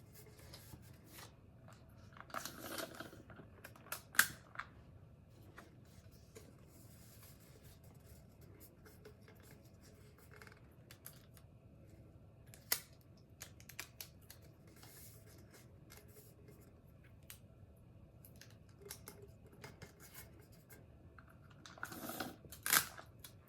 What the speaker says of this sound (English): I'll be taping this tumbler, taping the paper around this tumbler